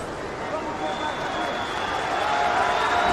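Appreciative crowd at a mixed martial arts fight, Islam Makhachev versus Davi Ramos, applauding steadily in a dense, continuous wash of arena noise with a commentator talking over it.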